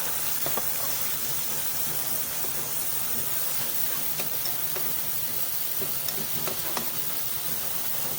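Onions go into a hot pan for a simple home-cooked dish, giving a constant loud sizzle and hiss with faint crackles and spits scattered through it, and no one speaking.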